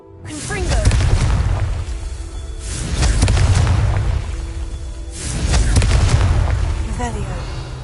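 Confringo fire spell cast in the video game Hogwarts Legacy, heard as three loud, booming explosive blasts spaced a couple of seconds apart, each with a rumbling tail.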